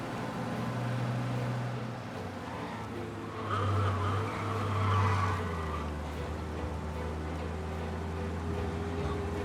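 A car engine in the video game Mafia: Definitive Edition roars steadily at high speed while escaping a police pursuit, with tire noise and a brief surge, no voices.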